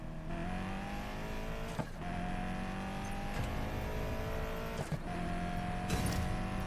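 Twin-turbo Pagani Huayra accelerating hard in the racing game Need for Speed Payback, a steady loud engine roar climbing in pitch through the revs, broken by brief dips at gear shifts, no talk.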